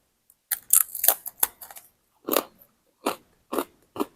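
Crisp bites and crunchy chewing of homemade baked crackers, close and loud, in several separate bursts spaced about half a second apart with short quiet gaps between them.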